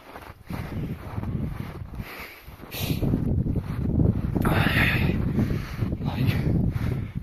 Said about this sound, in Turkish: böyle yukarı doğru gidince rüzgarda tam esiyor